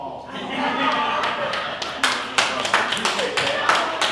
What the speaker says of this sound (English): now y'all better give me a round of applause.